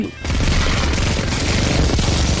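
Loud, sustained rapid-fire gunfire in the ARK video game, aimed at a kaiju monster: a dense, continuous barrage of overlapping shots that starts abruptly after a brief pause and keeps roaring without letup.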